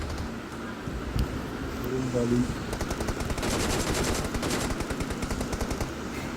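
Bursts of rapid automatic gunfire from the video game BGMI rattle in a dense stream behind players talking over the game, together with a steady background hum.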